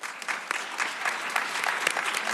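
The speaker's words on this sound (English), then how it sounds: "A warm round of applause for our panelists" An audience at an SDG Summit event applauds its panelists, a dense, even clatter of many hands clapping steadily, close and loud, with no voices on top.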